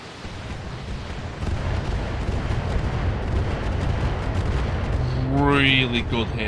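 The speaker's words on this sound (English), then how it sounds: "Mortars." Mortar fire and explosions in the Battlefield-style shooter BTA, a steady dense roar of distant booms and blasts, with a brief rising whistle near the end.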